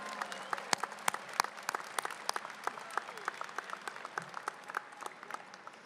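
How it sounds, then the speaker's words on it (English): Applause at a high school graduation ceremony, many people clapping at a moderate distance in a large space, sharp individual claps standing out from the crowd. "Let's give a big round of applause"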